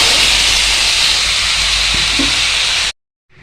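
Cut cauliflower stalks and vegetables frying in hot oil with black cumin, a loud, steady, close sizzle that runs unbroken for about three seconds, then stops abruptly.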